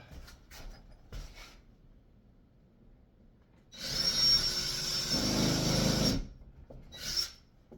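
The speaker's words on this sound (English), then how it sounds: "I'm going to go ahead and drill out those other 3 holes" A drill bores into wood, drilling holes for a composite laminated beam, in one sustained burst of about two seconds, whining and grinding, followed by a brief second spurt; quiet handling noises before.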